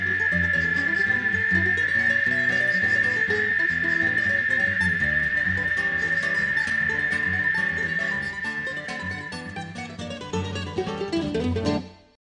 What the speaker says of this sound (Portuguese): tem que preservar para ter mais cigarras